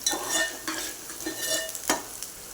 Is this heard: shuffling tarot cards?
no